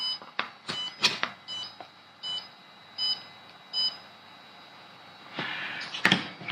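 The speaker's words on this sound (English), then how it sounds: "just one press on the bind button till you hear that beeping" A drone's Walksnail Moonlight receiver beeps during binding: a series of short, high electronic beeps repeats at a steady rhythm, close and clear, ending in a louder clustered burst.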